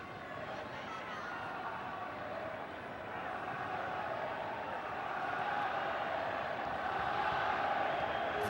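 A large stadium crowd at a Czechia versus Guatemala football match roars and cheers, swelling steadily louder as a distant wash of voices under a commentator's speech.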